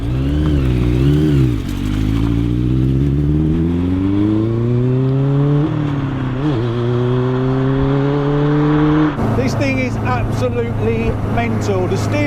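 Light Car Company Rocket sports car engine heard from the cockpit, a loud steady drone that climbs in pitch through revs, dips at gear changes and surges again, with a person talking over it.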